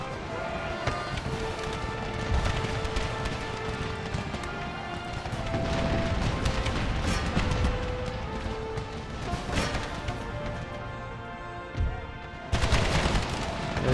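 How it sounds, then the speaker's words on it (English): Cannons fire canister shot in Empire: Total War (Brothers vs. Brothers Civil War mod) amid a dense, continuous battle din of volleys, crackling musketry and booms, with a sharp burst of blasts near the end. "Canister shot."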